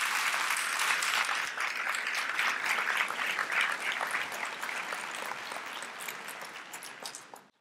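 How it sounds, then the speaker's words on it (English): Sustained applause from an audience honoring sponsors at a 2018 TOY awards event, a dense steady wash of many clapping hands that holds for several seconds before tapering off at the end. "Please give these wonderful sponsors a round of applause"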